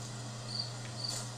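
A dark forest at night in the game Slender: The Arrival, with crickets chirping steadily over a constant low ambient hum, faint and continuous with no voices.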